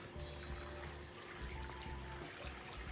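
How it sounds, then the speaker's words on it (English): Water runs steadily from a tap while skincare product is rinsed off a face during a bedtime routine, a continuous splashing trickle with slight changes in flow as the hands move through it. "So I'm just rinsing that off"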